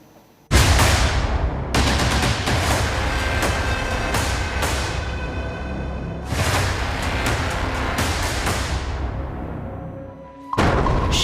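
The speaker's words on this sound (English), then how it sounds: "There's been non-stop shelling from Russian forces" Russian artillery shelling on a Ukrainian city: loud, heavy blasts with long rumbling, ringing tails, several booms that overlap and sustain for seconds, then a sudden drop and a final sharp burst.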